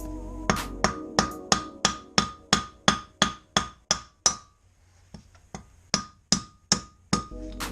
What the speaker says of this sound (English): You just knock these things out with a hammer.